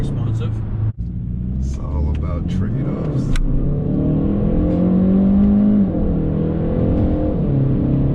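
A Kia K5 GT or Stinger GT pulls hard in Sport Plus mode, the engine note climbing and then holding a strong, steady drone from inside the cabin, with a driver talking over it.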